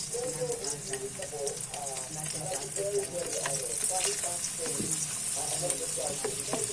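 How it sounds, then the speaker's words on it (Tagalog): Onion and garlic sautéing for beef bopis, a moderate sizzle with light stirring, and indistinct voices faintly in the background. "Magisa na tayo ng sibuyas bawang."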